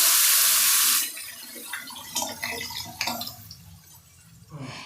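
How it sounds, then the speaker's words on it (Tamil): Dissolved masala water pours into a pan of fried onions with a loud rushing splash that cuts off after a second, followed by bubbling, sputtering liquid and a few clinks. "நல்லா வதங்கினதும் நம்ம கரைச்சி வச்சிருக்கிற அந்த மசாலா தண்ணியை ஆட் பண்ணிக்கலாம்."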